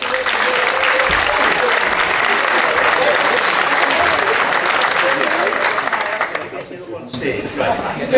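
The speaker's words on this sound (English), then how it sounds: "Big round of applause for Chris." A theatre audience applauds a volunteer named Chris at a magic show, loud dense clapping that holds steady for several seconds before thinning out and fading near the end.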